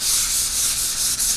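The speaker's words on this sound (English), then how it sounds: "So you just start sanding it down, and it's definitely turning into a powder" Close, continuous rubbing of 320-grit sandpaper over dried Roman Clay textured paint, a steady airy scratching hiss with slight back-and-forth swells, loud and alone.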